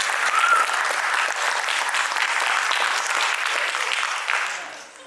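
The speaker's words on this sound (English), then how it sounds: "one more round of applause." Auditorium audience applauding after a classical dance recital, full sustained clapping from a big crowd that tapers off near the end.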